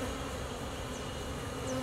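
Honeybees buzz around a hive box as it is moved to create a new hive, a steady, dense hum that holds at an even level for about two seconds.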